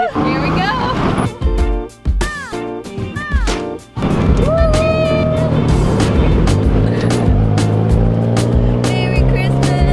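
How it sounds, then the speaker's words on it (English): Open-air tuk-tuk ride through Bangkok traffic, a steady loud engine drone and road rumble running throughout, with people talking, laughing and calling out over it. "we are gonna share a tuk-tuk back to the station"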